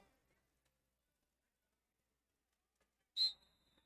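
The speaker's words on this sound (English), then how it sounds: "And we hear that rolling whistle" A roller derby referee's rolling whistle at a bout sounds once, a short shrill trill fading into a thin tail after near silence.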